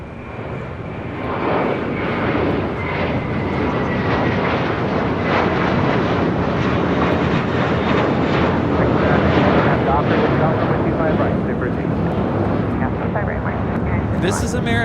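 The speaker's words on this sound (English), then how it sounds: "This is American Airlines Flight 4 taking off to JFK on an A321." An American Airlines Airbus A321 takes off at LAX, jet engines swelling from a low start into a loud, sustained roar that holds for over ten seconds, with wind buffeting on the microphone.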